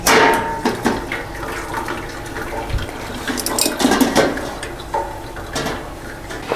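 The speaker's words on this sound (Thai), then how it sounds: "ปิดแก๊สเปิดฝาได้เลยค่ะ เห็นไหมคะว่าเขาจะมีน้ำออกค่ะ ให้เรา เทน้ำออกเลยค่ะ" Water poured off freshly steamed enoki mushrooms after cooking, a continuous irregular splashing and trickling stream at close range, steady throughout with small surges.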